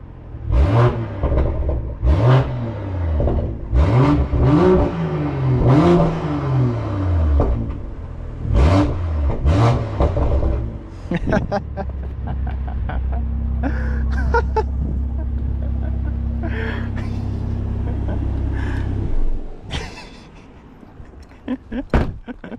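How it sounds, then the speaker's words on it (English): A 2022 BMW M240i fitted with a Cobra axle-back exhaust is revved in repeated sharp bursts, then settles into a sustained loud drone before cutting off, with door and mechanical clunks around it. "give it some revs"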